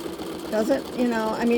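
A sewing machine does free-motion thread painting on a raw edge applique art quilt, giving a steady close mechanical whir with a fast stitching rhythm that runs under a person talking.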